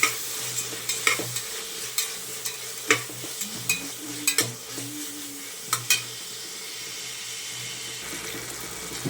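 Tomato masala frying in a pan for egg biryani, a steady sizzle punctuated by repeated scraping strokes of a spoon stirring through it, close by and without speech.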